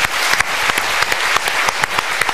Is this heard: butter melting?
no